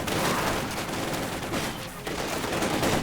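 Light machine gun fire crackles in a Company of Heroes 2 battle, dense overlapping bursts of gunfire filling the scene continuously at steady loudness with no pauses.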